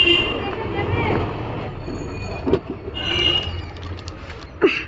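A train running on rails near a station, rumbling and rattling with occasional squeals and clacks, while people talk nearby.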